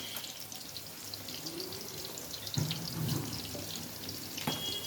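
Cut pieces of chhana (cottage cheese) fry in hot oil in a home kitchen, giving a steady, close, hissing sizzle with a few brief clinks of a utensil.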